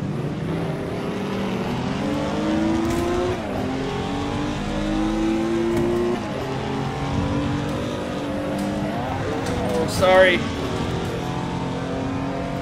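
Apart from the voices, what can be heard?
touring car engines racing in the Assetto Corsa video game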